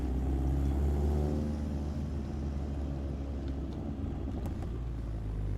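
Chevrolet car driving along with a steady low exhaust burble and rumble, loud and continuous without a break and with no one talking over it.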